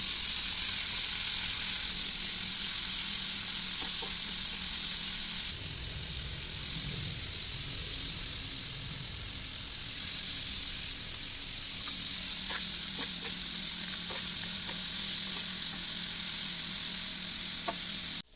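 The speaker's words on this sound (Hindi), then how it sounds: "मैंने आलू के छिलके और आलू को अच्छे से फ्राई कर दिया" Potatoes and potato peels fry in hot oil in a home kitchen, giving a steady, continuous sizzle and hiss throughout, with a slight shift in texture partway and a few faint clicks near the end.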